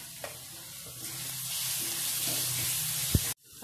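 Garlic and green chilies sautéing in a pan for pithale, a soft steady sizzle with faint stirring scrapes, quiet and close, ending in an abrupt cut.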